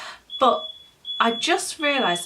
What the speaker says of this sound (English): oh, that's our fire alarm